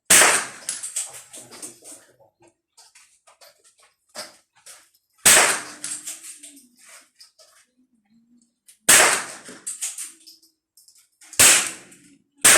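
CZ 457 AT-ONE rifle with a 24-inch barrel firing four sharp, loud shots at a range, spaced a few seconds apart, each followed by a brief echoing decay and faint handling clicks.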